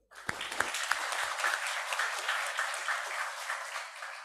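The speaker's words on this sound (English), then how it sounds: "Give the big applause for them." Audience applause at a general lecture session hosted by a nursing college, a dense, sustained wash of many hands clapping that starts with a few louder near claps and carries steadily to the end, with no talk over it.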